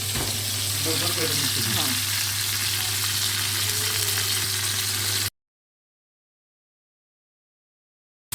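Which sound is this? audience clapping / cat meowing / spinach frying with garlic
spinach frying with garlic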